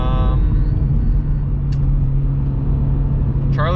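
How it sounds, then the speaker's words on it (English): Engine of a 2022 Subaru BRZ revving high inside the car, a loud steady drone holding through the whole clip with brief faint squeaks near the start and end. "It does rev pretty high."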